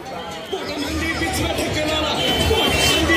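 Crowd chatter at a Ganpati darshan pandal in Jalgaon, a dense babble of many voices and shuffling bodies that swells slightly, with nearby voices over the hubbub.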